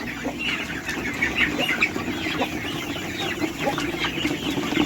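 Chickens on a farm cluck softly among a scattered flock, with faint calls and occasional wing flaps under a low background hum, the birds being fed grain.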